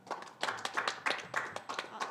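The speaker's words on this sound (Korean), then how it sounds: "큰 박수로 맞이해 주시면 감사하겠습니다." Audience applause welcoming a presenter at a science and technology policy forum, a short burst of clapping from a modest crowd that swells and holds steady, fairly close, with no talk over it.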